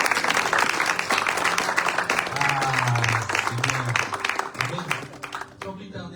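Sustained applause from a church conference audience fills the hall, dense and steady, with cheering voices and a man's low speech running underneath before it fades out at the end.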